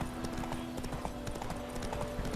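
Horse hooves in The Witcher 3: Wild Hunt, a quick, even clip-clop trotting rhythm, close and clear over a low ambient game hum, with a faint voice underneath.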